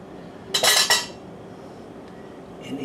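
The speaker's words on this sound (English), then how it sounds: "Now make a little vortex in it, kind of like a miniature portal." A metal spoon stirs salted water with white vinegar in a pot to form a vortex, giving a short burst of scraping clinks against the pot, then quiet simmering.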